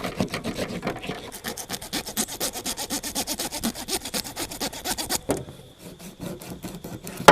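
Fins being cut off a whole fish for a village-style fry, heard as a fast, steady run of close rasping strokes that breaks off near the end into a few scattered scrapes.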